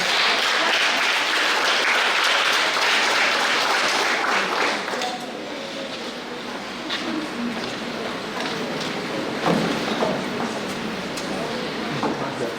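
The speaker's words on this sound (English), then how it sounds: "So please welcome her with a round of applause." Audience applause at a government primary school graduation ceremony, dense and loud at first, then thinning into scattered claps over a room's background noise.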